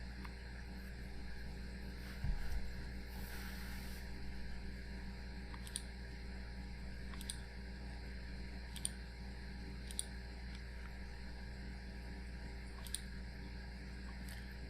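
Computer mouse clicks while setting up a certificate authority request on a PC, several sharp isolated clicks spaced a second or so apart over a steady low hum.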